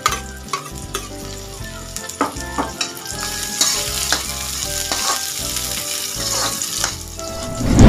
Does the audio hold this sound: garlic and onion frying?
yes